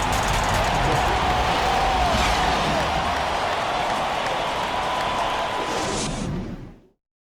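Dense, steady crowd applause and cheering from an NBA 2K23 basketball game between the 76ers and Heat, loud and continuous before fading out at the end.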